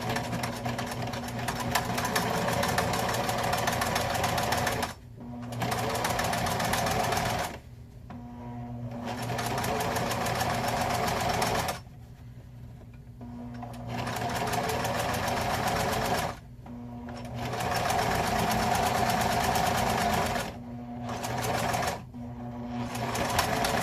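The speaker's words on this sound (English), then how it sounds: "you're going to put another stitch through the hat" A sewing machine stitches a seam through a welding hat, several runs of rapid, close mechanical chattering separated by brief pauses.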